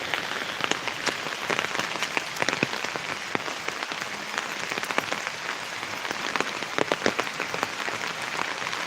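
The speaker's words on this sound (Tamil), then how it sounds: "மழை நிற்காமல் வந்துகிட்டே இருக்குது" Rain that has kept falling for three days pours steadily on a village, a dense continuous patter with sharper drops and splashes scattered throughout, moderately loud and with no voices.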